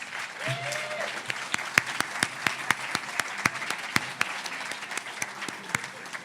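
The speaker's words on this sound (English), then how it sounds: "Let's give them a round of applause" A pub talk audience claps in a steady spread of applause, with sharper individual claps standing out near the microphone and a brief voice at the start.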